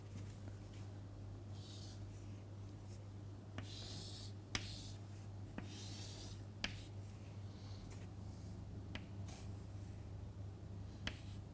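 Pen scratching on paper while sketching a transistor diagram, faint intermittent strokes and taps over a steady low hum in a quiet room.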